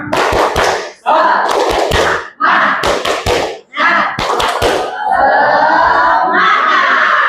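Schoolchildren in an Indonesian classroom do a rhythmic spirit clap, with loud, close bursts of group claps separated by short pauses and ending in a sustained shouted group chant.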